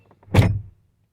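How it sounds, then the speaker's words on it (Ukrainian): A Fiat Tipo 1.4 petrol car's doors lock with a single short mechanical thunk and brief motor whir, close and clear, with no talk. "Стандартно відмикаються двері і з таким звуком замикаються"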